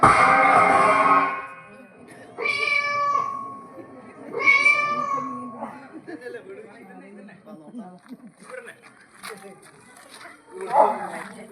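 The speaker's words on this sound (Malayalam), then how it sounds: "ബോംബ് മാധവി എന്നെല്ലാം വിളിക്കണേ പൂച്ച" A cat meows in a few drawn-out calls near the start, close and clear, followed by people talking over quieter background noise.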